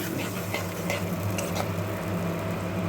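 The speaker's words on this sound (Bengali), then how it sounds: "এইভাবে কষাতে থাকবো" Spice paste for a mustard and poppy seed pabda fish curry sizzles steadily in a pan, with a spoon scraping and stirring through it and a few light metallic clinks, close and continuous.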